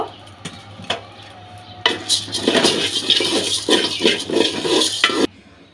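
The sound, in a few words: stirring rice while dry-roasting it in a pot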